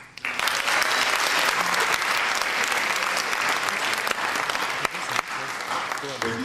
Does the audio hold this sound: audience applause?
yes